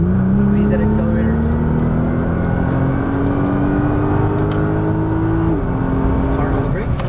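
Nissan GT-R accelerating hard out of a turn on a track, engine note climbing steadily in pitch for several seconds before a sudden drop as the driver lifts, loud and close inside the car.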